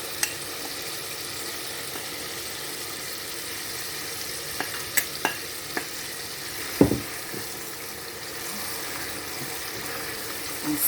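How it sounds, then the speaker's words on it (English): A fish sauce base with seasoning is stir-fried in a pan, giving a steady, even sizzle throughout with a handful of sharp clinks and scrapes of a utensil, one more prominent, close by. "you stir and fry for like 3 minutes"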